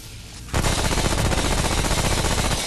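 Rapid automatic gunfire rips out in the shooter game Remnant: From the Ashes, starting abruptly after a quiet moment and holding as a loud, dense, continuous burst to the end.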